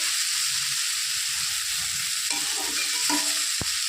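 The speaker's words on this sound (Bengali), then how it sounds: "দেখুন কত সুন্দর শাপলা ভাজাটা হচ্ছে।" Steady, loud sizzle of stems frying in a pan, with a few scraping stirs of a utensil near the end; no voices.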